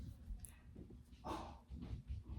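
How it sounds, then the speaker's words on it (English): A dog barks and whimpers faintly in the background, a few short yips spread out under quiet room noise. "I don't know if you can hear my dog barking."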